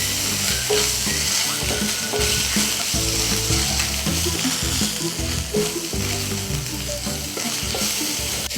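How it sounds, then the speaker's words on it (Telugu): Ginger garlic paste frying in oil with onions and turmeric, a dense, close, continuous sizzle with stirring scrapes throughout, no voices. "ఈ అల్లం వెల్లుల్లి పేస్ట్ ఒక్క నిమిషం వేగే వరకు వేయించుకోవాలి."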